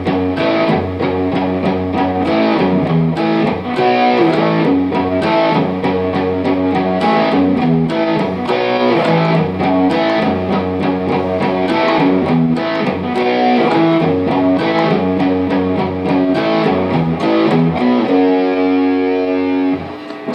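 A heavily distorted electric guitar plays the chugging, repeated chorus riff of a song, loud and continuous, with sustained power chords ringing out near the end.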